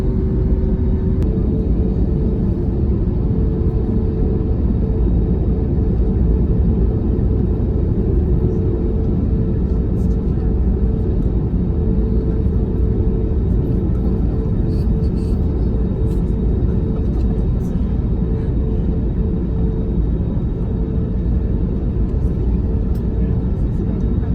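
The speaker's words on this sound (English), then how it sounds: "we are taxiing on to the runway just about 5 minutes past our scheduled departure time" Hawaiian Airlines A321neo taxiing onto the runway at Kahului, a constant loud low cabin rumble and engine drone that holds steady throughout, with speech present under it.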